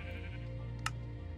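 A single short sheep bleat from a Minecraft wool farm sounds faintly over a low steady hum, brief and isolated near the end of a quiet moment.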